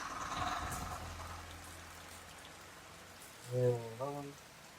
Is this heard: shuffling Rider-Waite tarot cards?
no